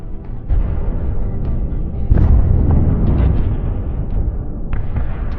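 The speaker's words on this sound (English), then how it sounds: "At some point, one of the shells hits the tank." An artillery shell strikes a Russian tank near Avdiivka: a loud, heavy boom erupts around the midpoint over continuous rumbling battlefield noise, followed by scattered lighter bursts.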